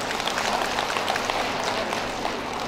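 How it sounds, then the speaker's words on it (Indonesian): Audience applause at an Indonesian community event handing over rebana frame-drum equipment, a dense steady clapping wash from a crowd that holds at a fairly loud level throughout without a pause. "Arif, tepuk tangan dulu buat Eka"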